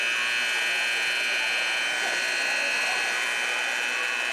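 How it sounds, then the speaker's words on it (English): A fire alarm sounds in a school basketball gym during a boys and girls game, a loud continuous electronic buzzing tone that never lets up, harsh and dominant throughout. "Looks like somebody managed to bump in and get the fire alarm going."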